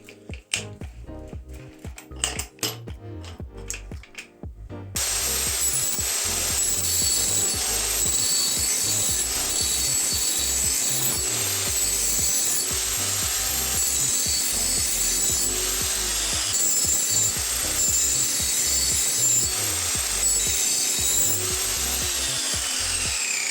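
Angle grinder fitted with a scrubbing disc grinds a new bevel on an old axe, a loud continuous abrasive roar running steadily after a few seconds of quieter handling knocks, no talk.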